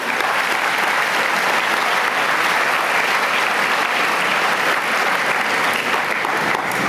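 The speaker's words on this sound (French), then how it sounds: "Applaudissez-les." Dense, sustained applause from a large audience at a formal dinner, loud and even throughout with no break.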